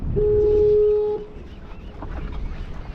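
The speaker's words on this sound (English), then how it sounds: "You can hear that foghorn in the back." A deep foghorn blast sounds for about a second over wind and water noise at a jetty in Bodega Bay, California, then fades into the outdoor ambience.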